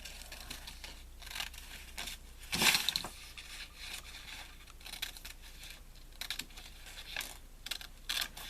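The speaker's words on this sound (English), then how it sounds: "And then I'm going to cut along that fold that I just did." Scissors cut paper along a fold for a craft project, giving quiet snips and rustles with one louder crisp crunch partway through, and further scattered small cuts after it.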